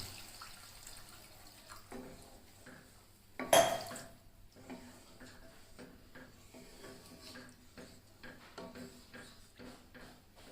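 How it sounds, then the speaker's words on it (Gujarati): A glass of water is poured into a pan of spiced Gujarati gathiya curry, a short, splashing pour standing out in a quiet kitchen with faint clinks and rustles before and after. "એમાં આપણે હવે એક ગ્લાસ જેટલું પાણી રેડીશું"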